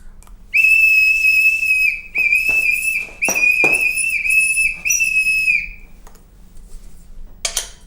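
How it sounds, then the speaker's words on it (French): A small whistle mounted on a clown's helmet shrills in several loud, close blasts of uneven length, some wavering, with short gaps and a brief final toot, and no voices. "grâce au petit sifflet, vous pouvez régler la circulation."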